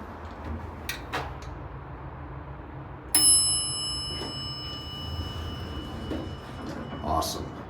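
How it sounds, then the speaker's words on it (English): A single bright bell chime from an original Schindler Haughton hydraulic parking elevator rings out with a long, sustained ringing decay, heard amid low background rumble and faint murmuring. "Let's hear the bell."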